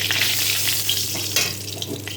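A bay leaf sizzles in hot oil in a wok, just after potatoes were fried, while chicken kosha is being cooked; a steady, bright crackling hiss with small pops runs throughout.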